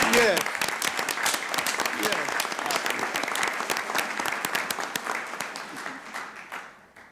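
A crowd at a city council meeting breaks into vigorous applause, loud dense clapping that gradually fades toward the end, with a voice speaking briefly at the start.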